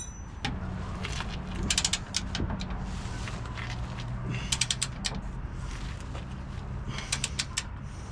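Leaf spring bolts on a Toyota Tacoma getting torqued with a clicking torque wrench during an Old Man Emu Dakar suspension install; repeated ratcheting clicks come in bursts over a steady low hum, close up, with no speech.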